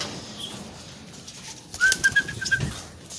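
Racing pigeons arrive at a loft in Candon, Ilocos Sur, with a flurry of wing flaps and soft thumps near the end, over faint background ambience; no talk.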